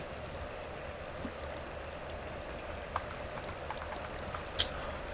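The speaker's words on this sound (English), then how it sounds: "I need to get this water source" Water from a source block runs in Minecraft as a steady, soft rushing stream, with a few faint clicks and drips scattered through it and no voices.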